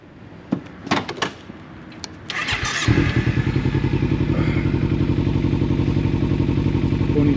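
A motorcycle starts at night after a few clunks and thuds, then settles into a loud, close, steady idle with a regular pulsing beat.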